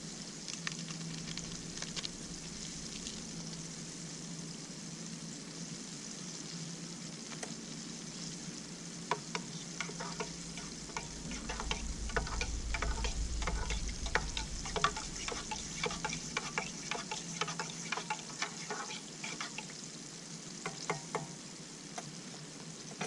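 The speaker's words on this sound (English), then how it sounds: "Catfishes are frying." Steady crackling sizzle of catfish frying in hot oil, with scattered sharp pops and spits growing busier partway through, close by.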